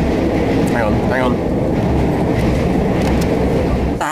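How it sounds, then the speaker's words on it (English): Steady, loud rumble and rattle inside a moving train bound for London, continuous throughout with a few faint squeaks, ending in a sudden knock. "on the train to London to Summer in the City"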